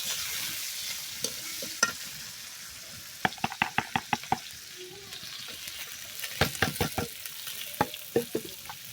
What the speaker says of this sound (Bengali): এখানে পেঁয়াজ কুচি দিয়ে দিব। পেঁয়াজ কুচি দিয়ে দিলাম।